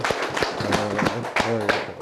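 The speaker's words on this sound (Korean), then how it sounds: "박수." An audience at a lecture on anxiety claps in a brief, fairly loose round while a voice speaks over the applause.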